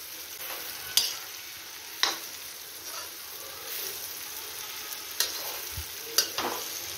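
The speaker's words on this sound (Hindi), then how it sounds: "मैं इसमें हल्दी डाल के इस कटहल को भून रही हूँ" Jackfruit pieces fry with turmeric in a little hot oil over the stove, giving a steady close sizzle broken by a few sharp scrapes and clicks of a stirring spoon.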